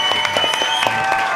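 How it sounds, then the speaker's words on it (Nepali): A short burst of audience clapping in a dance competition studio, brief and fairly loud, with sustained musical tones ringing over it. "एकचोटि ताली"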